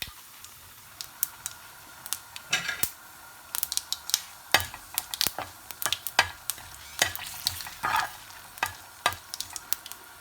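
Two chillies, half a teaspoon of cumin seeds and curry leaves crackling in hot oil and butter as a tempering for urad lentil curry, sharp irregular pops and bursts of spattering over a low hiss, close by.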